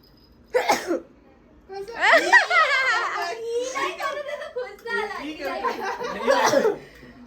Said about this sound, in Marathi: तिला पण शिंका आला.